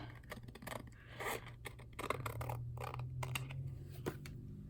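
Scissors trim a small edge on a purple craft piece, giving faint, close snips and clicks in quick irregular succession.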